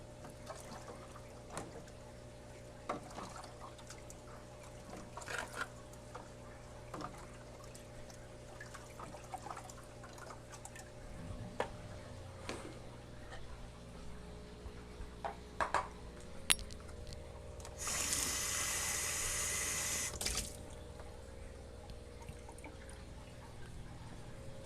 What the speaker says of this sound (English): let's go ahead and get water into this little filter right here